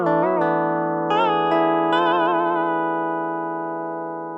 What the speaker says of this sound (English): that's our first pluck string sound